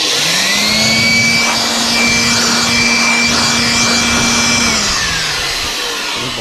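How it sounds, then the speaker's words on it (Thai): A steady, loud electric blower powered by a solar power station inverter, running alone with a high pitched motor tone, then winding down near the end. "นี่โบเวอร์นะครับ"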